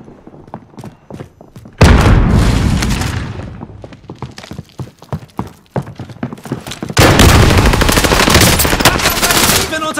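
Rapid machine-gun bursts and heavy gunfire crackle through a Warzone firefight, with scattered shots early on, then two long loud stretches of continuous fire and thudding impacts close by.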